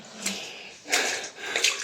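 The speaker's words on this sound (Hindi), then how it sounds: "क्योंकि 12 मास पानी टपकते रहता है।" Water drips and splashes inside a small cave holding shallow pooled water, heard as a few close, distinct wet bursts spread across a quiet echoing space.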